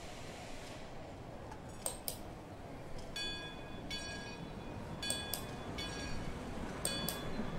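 Train sounds from the video game Over the Alps: a steady rolling rumble of a moving train, with sharp metallic clicks and squeals recurring every second or so, fairly quiet throughout.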